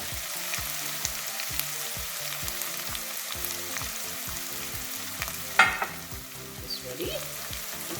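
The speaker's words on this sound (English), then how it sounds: "Let that fry up a little bit." Garlic fries in a pan for rice and pigeon peas, a soft sizzle under a repeating rhythmic background beat, with a brief louder clatter near the end; quiet overall and no speech.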